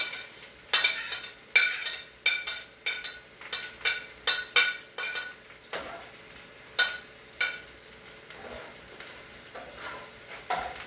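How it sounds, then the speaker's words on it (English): Onions are added to a pot and stirred, giving a run of repeated close clinks and scraping strokes over a faint sizzle. "I'm gonna put my other onions in."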